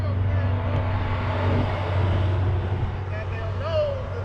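A Dodge Durango 5.7L and a Dodge Challenger 6.1L race on a highway roll, heard from inside a vehicle as a steady loud engine drone with road noise and people talking.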